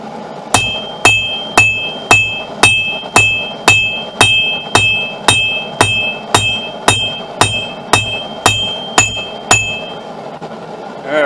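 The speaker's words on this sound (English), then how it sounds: "I'm going to start hammering the bevel on here" A hammer forges the bevel on a steel knife blade, striking about sixteen evenly spaced, loud ringing blows near the mic before stopping.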